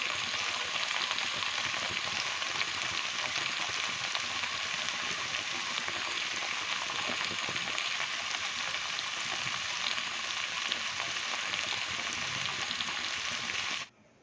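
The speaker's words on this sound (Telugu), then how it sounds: "బెండకాయ ఫ్రై చేసుకునేటప్పుడు ఇలా మగ్గుతున్నప్పుడు" Sliced okra frying in a pan, giving a steady, even sizzle and crackle that holds at a moderate level for the whole stretch and then cuts off abruptly, with no talk.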